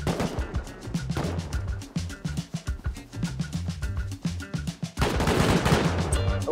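Rapid gunfire from a video game aimed at turrets: fast, evenly spaced automatic shots in quick bursts with brief gaps, then a denser, louder stretch of continuous firing near the end.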